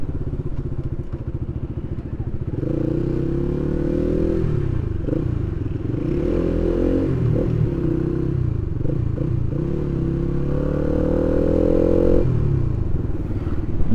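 A Rusi Flame 150 motorcycle engine on stock sprockets runs steadily and loudly close by, its low throbbing drone shifting slightly in pitch as the revs rise and fall, with no talking over it.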